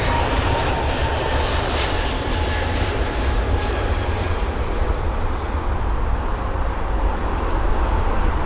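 A British Airways Airbus A320neo moving at the airport, its engines a steady, broad roar that holds constant and fairly loud throughout, with no clear voices.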